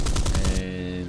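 A rapid burst of aircraft machine-gun fire in an arcade flight-combat game involving a Mustang and a Typhoon against a 109, a quick stuttering rattle lasting about half a second before cutting off to a lingering engine drone.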